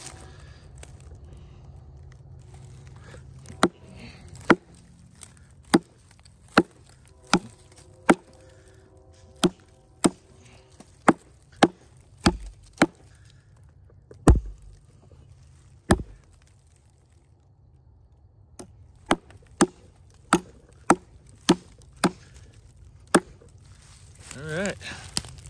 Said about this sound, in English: Let's do some chopping on this.